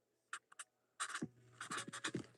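A pen scratches as it writes on a trading card during a card pack break, a few quick, light strokes and then a longer stretch of scratchy, rhythmic writing close by.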